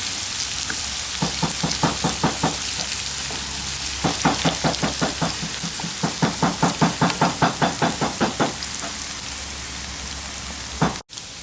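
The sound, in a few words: frying shallots and garlic in oil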